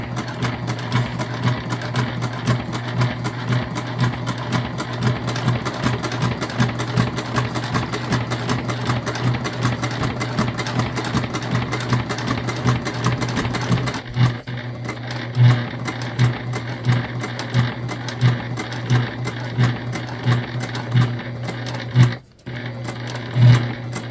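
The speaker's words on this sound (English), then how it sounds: "Your machine really doesn't like going through interfacing." A sewing machine drives steadily through interfaced bag panels, a loud continuous mechanical whir with a rapid stitching rhythm that briefly falters and pauses near the end.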